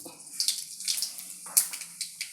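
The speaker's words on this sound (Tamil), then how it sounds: "இப்போ வந்துட்டு எண்ணெய் வந்துட்டு காய்ஞ்சிருக்கு. இது எண்ணெய், இது கூட நாம் கடுகு கொஞ்சம் போட்டுக்கணும்." Mustard seeds hit hot oil and splutter, giving a series of quick, crackling, hissy bursts at close range, each rising and fading within a fraction of a second. No voice.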